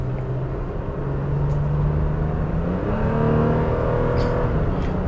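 A 2021 Toyota Tacoma TRD Sport with a 3.5-liter V6 and six-speed transmission accelerates, its loud engine drone rising steadily in pitch as it gathers speed.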